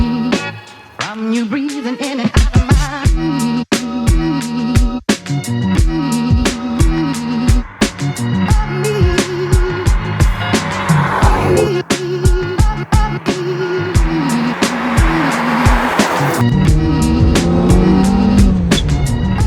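A high-revving Ferrari F355 engine screams and shifts through gears while driving, loud and close, with rising and falling pitch sweeps.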